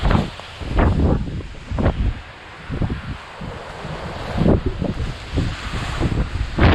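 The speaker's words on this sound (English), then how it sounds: "it's pretty windy up here today" Strong gusts of wind buffet the microphone in loud, uneven rumbling bursts on an exposed hilltop trail, with a steady rushing hiss throughout and no voices.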